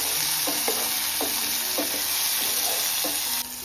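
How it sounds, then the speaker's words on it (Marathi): Onion and tomato sizzle steadily in a hot pan for a homemade vegetable dish, with stirring scrapes and clinks of the spatula cutting through the constant close frying hiss. "आता आपण टॅमॅटो टाकू. टॅमॅटो पण मस्त आपल्याला परतून घ्यायचं."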